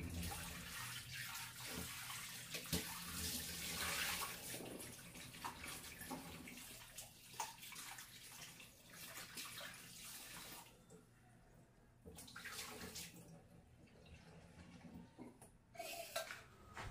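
Soaked baby potatoes are rinsed in water in a kitchen before going into a pressure cooker. The water sloshes and splashes softly with faint clinks of a pot, then eases into quieter, intermittent swishes.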